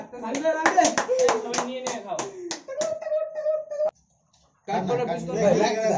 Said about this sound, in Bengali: সবাই তালি সবাই তালি